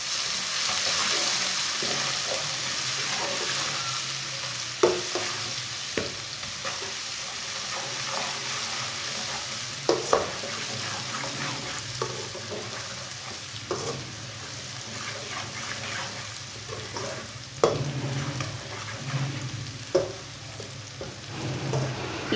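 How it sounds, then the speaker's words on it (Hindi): Crushed garlic sizzles in a pan with lightly browned onions, fried for a Pakistani chana dal and spinach dish, with a steady crackle broken by repeated scrapes and clinks of stirring. "लहसुन को भी 1 मिनट तक भून लेंगे।"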